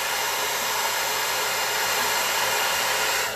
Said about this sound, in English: And then you can get your blow dryer so it's cool.